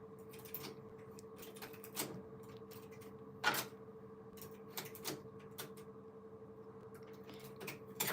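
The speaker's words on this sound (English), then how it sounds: "our knitting machine can also finish the different patterns like this." A Silver Reed knitting machine knits patterns with a faint steady mechanical hum, punctuated by irregular clicks and sliding clacks as the carriage moves, with no voices.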